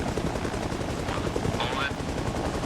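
An M60 machine gun fires in ARMA Reforger combat, a dense stream of rapid bursts sitting under a faint voice, with a constant gritty background.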